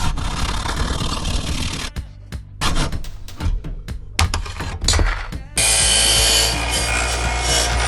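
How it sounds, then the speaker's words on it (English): A jigsaw cuts through material while a vanlife power rack for a lithium battery and inverter is being built, harsh buzzing bursts starting and stopping with short pauses, then a long, steady, loud run near the end. "You can cut this with the jigsaw too."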